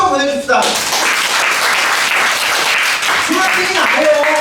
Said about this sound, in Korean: 자, 중학생 박수 한번 보내줍시다